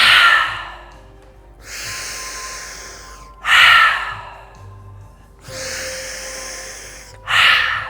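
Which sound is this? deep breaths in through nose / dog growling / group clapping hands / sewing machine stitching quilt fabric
deep breaths in through nose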